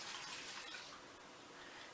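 Turkey broth pours in a steady stream into a soup pot for a chicken noodle soup, a soft continuous liquid splash lasting about two seconds with no talk.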